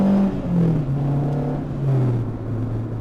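A Renault Clio engine revs up under acceleration from inside the car, a loud steady drone whose pitch climbs and drops back as it shifts through gears.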